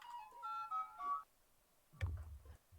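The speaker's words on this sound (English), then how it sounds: "I should probably mute my phone." A mobile phone rings with a short melodic tone of a few bright notes, picked up during a game livestream. A dull thump follows after a pause, with no talk.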